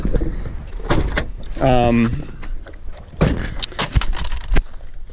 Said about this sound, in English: I can actually pop the hood for you guys and show you.